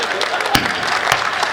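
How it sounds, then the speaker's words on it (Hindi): Audience applause at a Hindi comedic poetry show, a dense steady wash of clapping with a couple of sharper bursts, loud and close throughout. "ये ताली वही, हाँ ताली वही लोग बजा रहे जो मैं बारात आए थे।"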